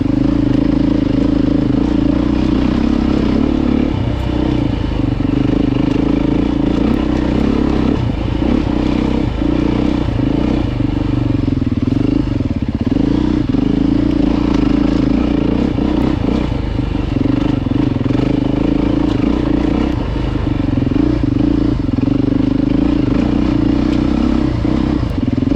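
A Beta dirt bike rides off-road on a trail with logs, its engine droning loudly and steadily throughout with clattering, scraping chassis noise and small throttle changes, close to the rider.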